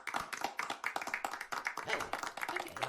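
A crowd cheers for Durmstrang and Beauxbatons, with rapid, dense clapping and shouting at a moderate, somewhat distant level, and voices mixed throughout.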